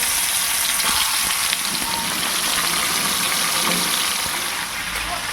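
Fish rubbed with salt and turmeric frying in hot mustard oil, a steady loud sizzle and crackle running throughout with faint background voice.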